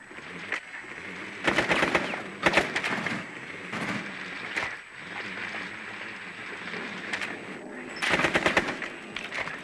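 Bursts of rapid automatic gunfire in the video game Rainbow Six Siege, several loud rattling volleys over a steady background hum, with a few single shots between them.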